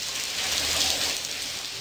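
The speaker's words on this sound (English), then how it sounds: "Hey, let's get out of this rain." Pouring rain in the video game Blackwell Convergence makes a steady, dense hiss that holds constant at moderate loudness, with no voices over it.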